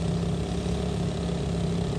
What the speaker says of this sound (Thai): อันนี้ผมปรับเร่งเครื่องขึ้นนะครับ